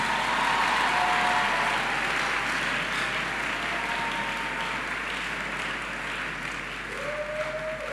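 A church congregation applauds during a sermon, producing a dense, sustained clapping that holds steady and eases slightly toward the end, with faint voices underneath.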